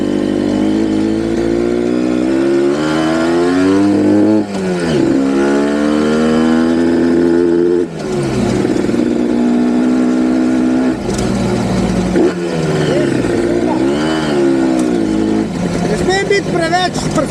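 A Gilera SP02 motorcycle engine with a fault that keeps it from revving out, pulling only at the bottom end, drones loudly and continuously as its pitch repeatedly climbs and falls through short rev bursts.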